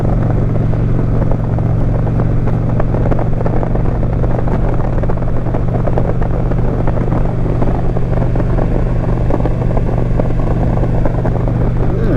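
A 2021 Indian Challenger motorcycle cruising on the road, its engine a steady, continuous low drone with wind rush throughout, loud and close with no pauses.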